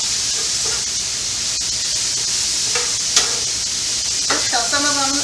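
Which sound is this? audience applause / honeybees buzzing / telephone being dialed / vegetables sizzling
vegetables sizzling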